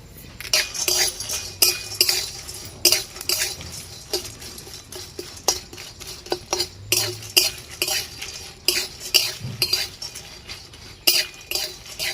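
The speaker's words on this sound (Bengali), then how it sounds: "আমি প্রথমে লঙ্কাগুলোকে ভেজে নেব। এবারে আমি এই গরম মশলাগুলো সব দিয়ে দেবো এর মধ্যে।" Dry chillies and garam masala spices stirred in a hot pan, a metal spoon clinking and scraping against it in irregular strokes with a faint sizzle underneath.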